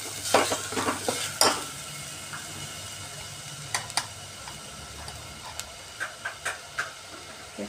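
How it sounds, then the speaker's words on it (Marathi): Masala spices fry in oil in a pan for amti, with a low, steady sizzle broken by sharp scrapes and clinks of stirring at irregular intervals. "तेलामध्ये मसाला पण एक 4-5 मिनिटं परतवून घेणार आहे."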